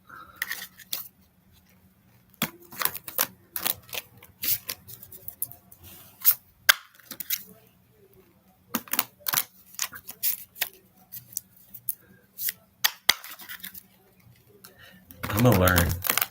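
Tarot cards are shuffled and handled close by in irregular bursts of crisp flicks and snaps, with short quiet gaps between.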